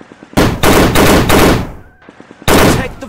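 Bursts of automatic gunfire in the mobile shooter War Games Modern Commando, several loud, tightly packed volleys separated by brief gaps, close and dominant with no talk.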